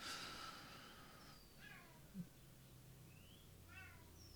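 A cat meows a few times, the high, rising cries fairly faint over a quiet background hum.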